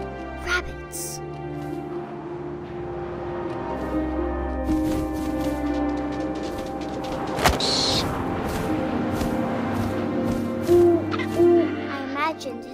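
An owl hooting in the video game What Remains of Edith Finch, with clear repeated hoots over a soft ambient bed of wind and low tones, a narrator speaking throughout.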